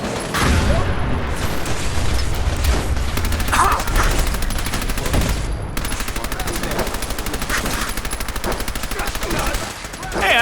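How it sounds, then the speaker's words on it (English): Rapid, dense bursts of explosive-round gunfire from Fallout 4 on PC, loud and near, fill the whole stretch with heavy low-end thumps under continuous crackling fire, with a brief lull midway. "Fine, then I just blow them up with explosive bullets."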